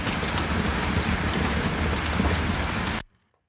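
Unprocessed field recording of steady rainforest rain, a dense continuous patter with faint rumbles, filling the space evenly before cutting off abruptly into silence.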